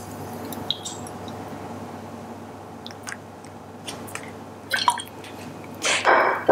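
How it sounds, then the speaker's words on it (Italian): Extra virgin olive oil drizzled over a plated mantis shrimp dish, giving soft, sparse drips and wet squishing sounds that build into a few louder splashy bursts near the end, with no talking. "mettiamo una bella spruzzatina di olio extra"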